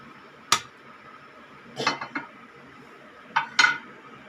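A metal cooking vessel is set onto a stove while wheat rava idli is being made. A few close, sharp metallic clanks and short clattering bursts ring out against a quiet background, with no talking.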